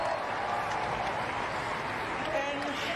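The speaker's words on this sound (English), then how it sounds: "we should give her all a round of applause" Crowd applause at a 2013 Toronto tennis tournament, a brief continuous wash of clapping with some voices audible underneath.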